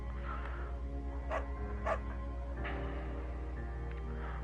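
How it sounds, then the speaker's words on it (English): A beagle in the video game Firewatch gives two or three short, high yapping barks, fairly close, over a soft steady background hum. "Bucket's a good dog"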